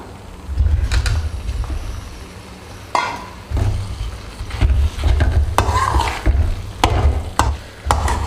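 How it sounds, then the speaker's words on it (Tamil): Paneer being stirred into onion masala in a pan: repeated scraping strokes of a spoon against the pan over a low sizzle, close and fairly loud, coming in irregular bursts with brief pauses and no voices. "நல்லா மிக்ஸ் பண்ணி விட்டுக்கலாம்"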